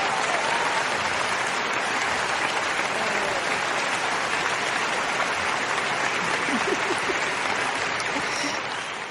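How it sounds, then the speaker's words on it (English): Studio or event audience at a talk show taping breaks into sustained, dense clapping that holds at a steady loud level for the whole stretch, tapering slightly at the end. "Clap, clap, clap, clap."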